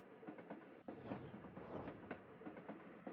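A train ride in the video game Little Witch in the Woods, a faint steady rolling rumble with soft rhythmic clacking of the wheels and no music, continuing evenly throughout.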